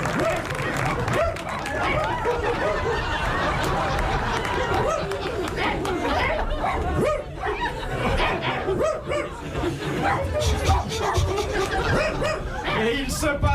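A male performer on a 1980 French radio comedy panel imitates dogs barking, with yelping, bow-wow calls continuing steadily through a lively studio with laughter and people talking over it.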